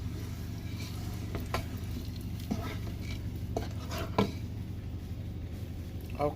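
Seasoning and salt stirred into a big pot of Nigerian jollof rice, faint soft scraping and occasional clinks of a spoon over a steady low sizzle, with no talk.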